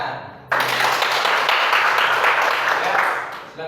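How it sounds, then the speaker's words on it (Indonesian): An audience at a school morning assembly breaks into applause, dense clapping starting abruptly and sustained loudly for about three seconds before tapering off. "Tepuk tangan."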